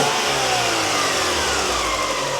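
A standard-exhaust Renault Laguna or Alfa Romeo 155 engine revs steadily, close by and loud, its rising and falling drone filling the clip with no voices.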